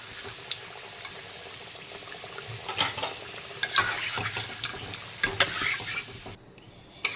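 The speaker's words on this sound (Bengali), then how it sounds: "এইভাবে উল্টে পাল্টে খুব সুন্দর করে ভেজে নিতে হবে।" Potatoes frying in hot oil in a pan, a steady sizzle and bubbling with louder surges as they are turned, plus occasional clicks and scrapes of the spatula, close and without talking.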